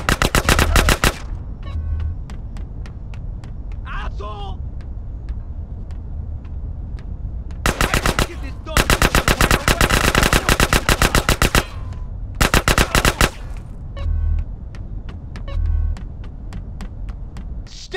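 Automatic gunfire in GTA San Andreas, loud rapid bursts of machine-gun fire in several long volleys separated by quieter rumbling gaps.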